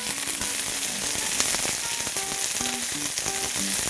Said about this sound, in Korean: 이제 이렇게 조금만 적당히 넣고 그냥 볶아주세요